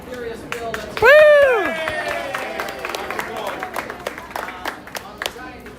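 Crowd at a Disneyland Resort live band show on Easter weekend cheers and claps for a band member, a loud whooping shout rising over scattered, uneven applause that thins out and continues under general crowd noise.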